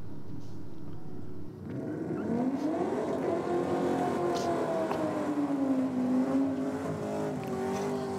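A Mercedes-AMG accelerates hard on a drag strip run, its engine note rising and sweeping through gears, fairly close and strong over crowd and track ambience.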